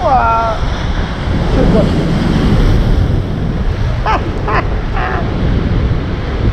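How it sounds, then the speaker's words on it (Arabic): Large sea waves crash and roar along the shore near the Hassan II Mosque and marina, a constant loud wash mixed with heavy wind buffeting the microphone, while a man calls out briefly over it. "شوف الموج اللي غادي تقعد"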